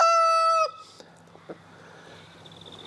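A rooster, either a black Australorp or a buff Sussex, gives one loud, clear crow on a homestead, then a quiet yard follows with faint scattered clucks.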